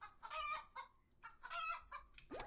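Chickens in the video game Terracards, clucking in short repeated bursts of two or three calls, fairly faint and close, ending with a brief rising electronic blip.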